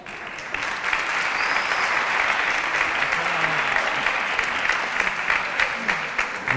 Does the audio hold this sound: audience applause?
yes